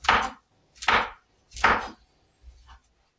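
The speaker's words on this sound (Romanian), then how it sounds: "Așa o să le tăiem toate ciupercile" A knife chops mushrooms into strips for a vegetable stew, giving three firm, evenly spaced thuds on a cutting board and then a softer fourth, close by and with no voice over them.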